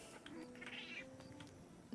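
Cat meowing on a rooftop in the video game Infinity Nikki, a faint, brief meow or two over steady game ambience.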